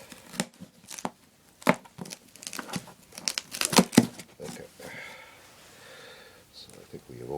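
A package is cut open by hand, with crinkling and tearing of wrapping in several close, irregular bursts, then quieter rustling.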